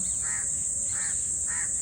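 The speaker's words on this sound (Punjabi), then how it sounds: "ਕਾਉ ਚਿੜੀਆਂ ਦੀਆਂ ਆਵਾਜ਼ਾਂ" Crows caw in a park on a cool morning, three evenly spaced calls at moderate distance over a steady high hiss of insects or birds, with no talk.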